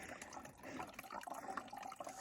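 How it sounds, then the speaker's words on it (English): Water poured into a filter bag on an Appalachian Trail thru-hike, a steady close trickle and splash of liquid filling the pouch, with no voices. "Fill the water into the knock bag"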